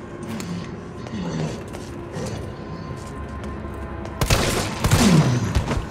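Gunshots in the survival horror game Resident Evil 3 Remake, with a loud burst of firing arriving after a stretch of quieter game ambience and rumbling, then mechanical clatter.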